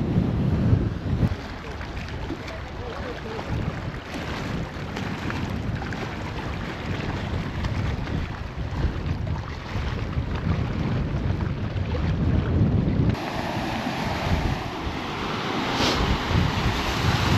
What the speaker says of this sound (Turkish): Çok feci bir rüzgar var.